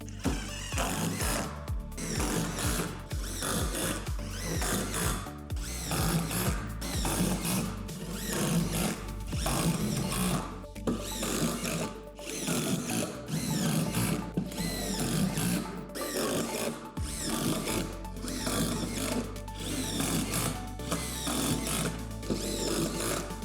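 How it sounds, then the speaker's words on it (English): A power drill drives self-tapping screws through pre-drilled holes into the metal frame of a backyard castle playset, a steady whirring motor with repeated ratcheting bursts and short stops, close and loud. "Secure the deck to the frame by using the self-tapping screws through the holes that you drilled."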